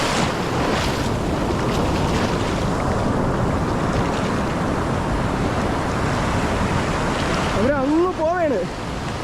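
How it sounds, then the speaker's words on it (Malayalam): Sea waves surge and wash continuously along a coast, a loud, dense roar with heavy wind rumble on the microphone, and a brief voice breaks in near the end. "തിരമാല നല്ല രീതിക്ക് തിരമാലയും കൂടുന്നുണ്ട്"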